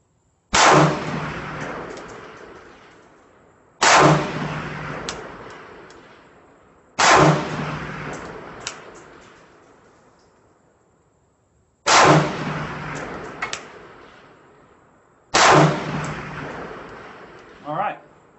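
Sniper rifle and DMR shots fired one at a time at a target outdoors: five sharp, loud cracks spaced a few seconds apart, each trailing off in a long fading echo.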